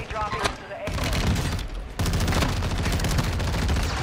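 Rapid automatic gunfire in Warzone 2, loud and continuous, with a short break midway before bursts resume at full intensity.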